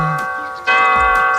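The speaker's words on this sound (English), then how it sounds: "What is that? That's a bell," A bell rings with a sustained, bright tonal ring that swells louder about halfway through and holds steady, heard alone without talk.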